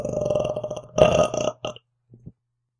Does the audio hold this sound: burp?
yes